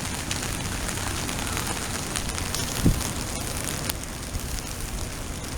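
Rain falls steadily on a walk outdoors in Japan near a bridge, a dense continuous hiss of drops on surfaces with a brief thump partway through.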